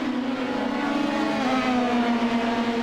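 Pro Mazda race cars at the Interlagos circuit, a loud steady engine drone with a strong sustained tone as the pack approaches through a turn, engines held at high revs.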